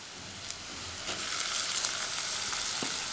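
Chopped tomatoes going into a pan of onions already fried golden for a Tamil brinjal gravy, setting off a steady close sizzle with a few sharp clicks of a spoon against the pan.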